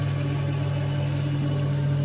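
A milling machine cuts pockets into an aluminium chassis plate, giving a steady, loud mechanical drone with a strong low hum and an even whine above it, heard alone.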